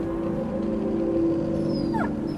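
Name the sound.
dog whimpering, story sound effect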